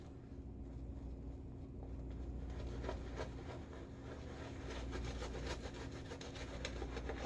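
Shaving brush scrubbing lather across a face during a shave with a Gillette Aristocrat razor, a steady close bristly rubbing with faint rhythmic strokes, no talking.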